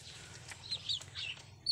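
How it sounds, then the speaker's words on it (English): Baby chickens on a farm in the Philippine provinces chirp in quick high peeps over a steady low hum, several short calls scattered through the clip. "It's baby chicken like this one."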